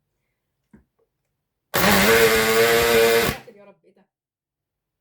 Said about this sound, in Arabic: الصوت اللي انا حصل في قلب الخلاط ده دلوقتي، اللي حصل ان انا كنت نسيت المعلقه في الخلاط